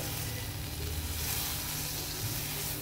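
Butter sizzles in a hot pan for toasting pav buns, giving a brief, even, soft hiss with no voices.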